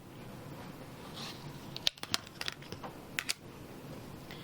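Fabric scraps for a quilt block are trimmed in a quiet room: a few sharp, separate snips and clicks stand out over a faint background hiss.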